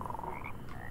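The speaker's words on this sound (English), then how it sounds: "Oh, big frogs." Big frogs in the video game Mortal Shell croak in a steady, close, throaty chorus with a few higher warbling notes on top, continuous for about a second with no talk.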